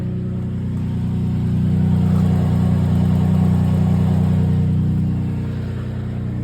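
A Suzuki Cappuccino engine idles normally after a coolant hose repair, a steady close-up hum that swells slightly in the middle, with no voices over it.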